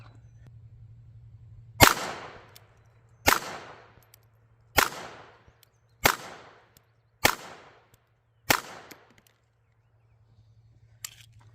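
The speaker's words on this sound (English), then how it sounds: "now that we put full 10 rounds through it" Six sharp gunshots from a Walther P22 pistol ring out at a steady pace of roughly one every second and a half at a target shoot, each crack decaying quickly over a low steady hum, with a faint click afterward.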